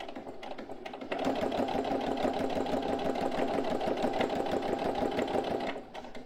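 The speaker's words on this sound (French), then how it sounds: "Et je fais la deuxième couture de cette méthode classique de pose du biais." A domestic sewing machine runs steadily, stitching bias binding onto fabric for about five seconds, with a brief slower start and a stop at the end; close and fairly loud, no talk.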